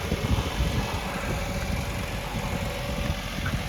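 A New Holland T8410 Genesis tractor engine idles nearby with a steady, heavy diesel rumble that holds even throughout, with no voices over it.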